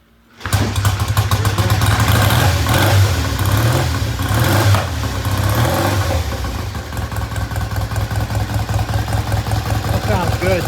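A vintage British motorcycle engine under repair is kick-started and catches at once, then runs loud and steady at a slightly high idle, with a rapid even beat and a faint voice now and then.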